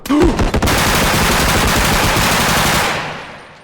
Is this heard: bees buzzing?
no